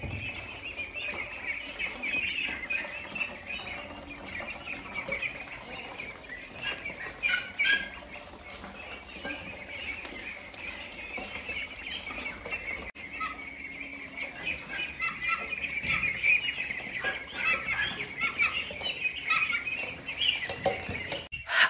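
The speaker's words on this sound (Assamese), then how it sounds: "এই ৰুমটোত আছে 102 পিচ হাঁহ" A roomful of 102 month-old ducklings on a duck farm in Assam fills the space with a dense, continuous chorus of high peeping and chirping that holds steady throughout, with no voices.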